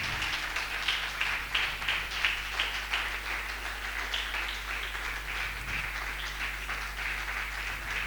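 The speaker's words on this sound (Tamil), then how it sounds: "அவரை ஆனர் பண்ண எல்லாம் பலத்த கரகோஷம்." Audience at a family conference applauding to honour a speaker, continuous rhythmic clapping heard faintly and somewhat distant over a steady low hum throughout.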